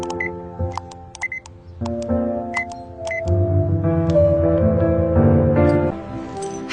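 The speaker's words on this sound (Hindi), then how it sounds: "और एक नंबर डायल किया" A phone number is punched in as a quick series of short electronic beeps, followed by a rising tonal melody, with no talking.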